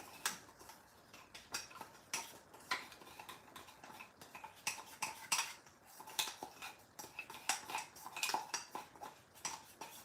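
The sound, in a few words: spoon scraping food out of a container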